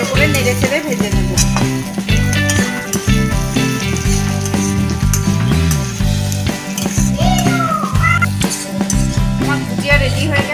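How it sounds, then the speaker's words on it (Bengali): Pointed gourd, potato and onion bhujiya stirred and fried with roasted spices in a dhaba-style pan, sizzling under loud background music with occasional utensil clinks. "ভালো করে নেড়ে চেড়ে ভেজে নেব"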